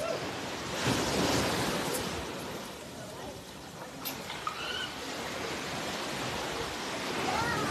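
Sea waves surge and wash onto a beach in a steady, broad roar with gusts of wind across the microphone, close and fairly loud throughout.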